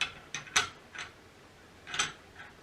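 An IHC M1 Garand rifle bolt is slid back into the receiver, giving a few quiet metallic clicks and scrapes at an uneven pace, close up and alone.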